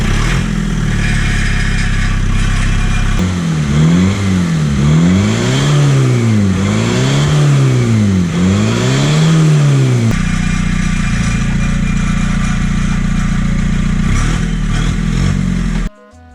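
A BMW motorcycle engine, run after its exhaust was modified, idles loud and close, is revved up and down in several rising and falling sweeps, then settles back to a steady idle before cutting off.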